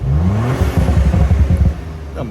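A 2024 Ford Bronco Raptor's engine is blipped up and settles into a deep, burbling exhaust rumble, loud and close, with rapid popping pulses as the revs drop.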